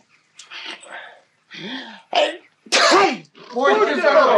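A person sneezes once, loud and close, amid short bursts of voiced, throaty sounds.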